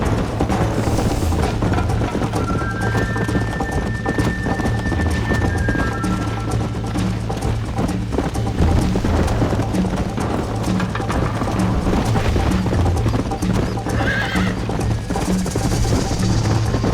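Horses gallop in the Red Dead Redemption video game with a steady, close clip-clop of hooves that runs the whole time. A brief whinny and tonal game sounds rise over the hoofbeats.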